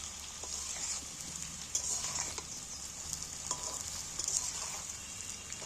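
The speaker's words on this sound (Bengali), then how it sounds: "আলুগুলো আমার লাল লাল করে ভাজা হয়ে যাবে" Potatoes fry in oil for aloo dum, giving a steady, quiet sizzle and crackle with occasional stirring scrapes and clinks and no talking.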